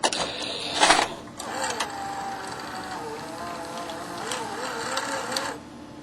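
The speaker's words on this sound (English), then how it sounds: "Here's another view of the tape being loaded." VCR mechanism loading a videotape, pulling the magnetic tape around the tape path: soft whirring motors, clicks and gear movements with rising and falling tonal whines, under a narrating voice.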